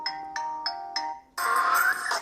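A mobile phone ringtone being previewed in the settings menu: four short, evenly spaced chime notes, then a louder, brighter melodic tone that swells and cuts off, clear and close.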